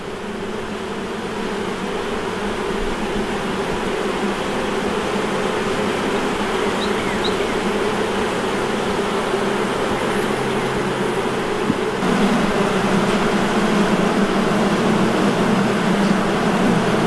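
Honey bees swarm and buzz around an opened hive during an inspection, a steady dense drone close by that holds without pause and swells a little louder toward the end.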